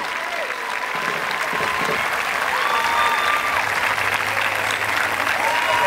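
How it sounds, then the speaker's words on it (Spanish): Audience applause for graduates of the Aeroshock school in 2021, a dense, steady wash of clapping that fills the whole stretch, with a few faint voices and whistles mixed into the crowd noise. "les agradecemos y las aplaudimos de esta manera."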